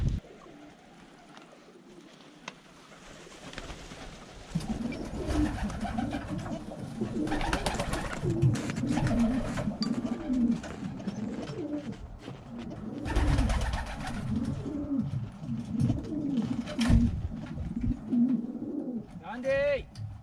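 Pigeons, including a hefty blue bar racing homer, cooing in soft repeated throaty rolls, fairly close, with a person talking over them at times.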